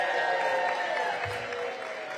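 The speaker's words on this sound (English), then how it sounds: "Everybody give Journey a big round of applause" A crowd at a recreation center opening event applauds, a steady, sustained wash of clapping at moderate distance that gradually softens, with faint cheering mixed in.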